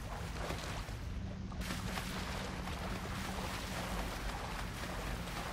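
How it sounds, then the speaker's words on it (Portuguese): Nathan Drake splashing through water in the video game Uncharted, a steady, dense wash of churning water and rushing wind noise that continues unbroken, with no voices over it. "Aqui eu não sei se ele tá nadando ou se ele tá se afogando, né?"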